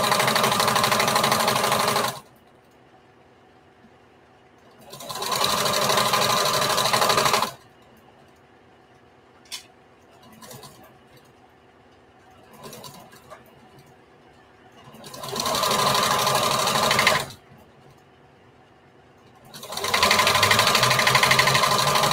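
A sewing machine stitches straight across fabric for a patchwork bandana t-shirt dress in four loud bursts of rapid whirring, separated by quiet pauses with small handling clicks.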